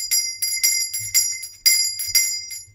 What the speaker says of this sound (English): Crazy, I have bell inside the studio now.